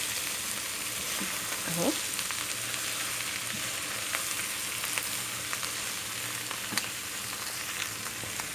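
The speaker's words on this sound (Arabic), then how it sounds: "هفضل اشوح بقى فيه كده لحد البصل عندي ما يدبل" Onions frying in a pot for pot kebab sizzle steadily, with a spoon stirring them now and then, close and moderately loud, and a brief spoken word partway through.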